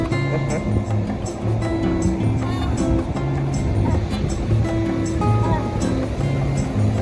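Ocean waves break at Ibeno Beach in Nigeria as a continuous loud rushing roar of surf, with voices talking faintly in the background.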